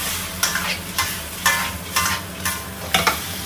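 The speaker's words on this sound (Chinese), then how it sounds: "就把排骨放进去 一起翻炒一下" Pork ribs are stir-fried with yellow wine in a hot wok, loud sizzling broken by regular rhythmic scraping tosses of the spatula, about two per second, with no voices.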